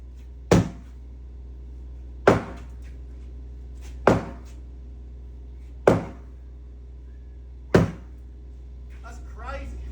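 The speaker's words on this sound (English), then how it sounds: "just knocking holes clean straight in it with a 10-pound sledgehammer" A 10-pound sledgehammer knocks holes in thin material, landing five heavy, evenly spaced blows roughly every two seconds, each a loud close thud against a low steady hum.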